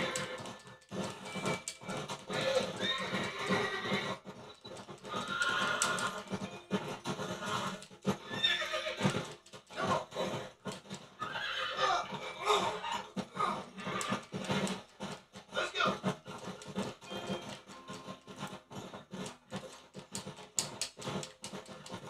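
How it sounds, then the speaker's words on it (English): A horse in the video game Red Dead Redemption neighs and whinnies repeatedly alongside clip-clopping hooves, the calls rising and falling in bursts throughout, fairly faint and with no talking. "Freaking piece of crap, stupid horse."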